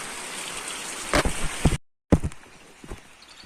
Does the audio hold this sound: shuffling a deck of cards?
no